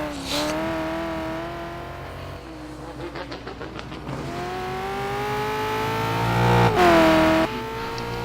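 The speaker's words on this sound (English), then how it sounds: "Pushing that Corvette real hard." Corvette race car engine in a racing video game at the Nurburgring, loud sustained roar rising in pitch through the gears, with a brief dip, a gear shift and a surge of revving near the end.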